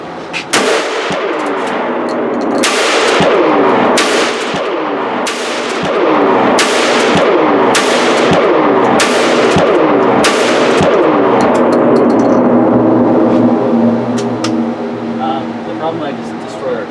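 Series of roughly a dozen sharp, loud gunshots spaced a second or two apart, fired from weapons fitted with an Olight PL-2 Valkyrie light at an outdoor range, with voices talking between shots.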